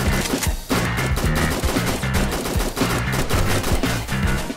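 Rapid automatic AK rifle fire in the survival shooter game Fallen Survival, dense overlapping bursts of loud gunfire running nearly nonstop, with one brief pause early on.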